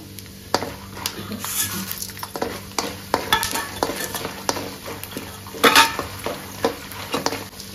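Urad dal and chana dal fry in hot oil in a pan, a steady low sizzle broken by frequent clinks and scrapes of a stirring spoon against the metal, close up and moderately loud.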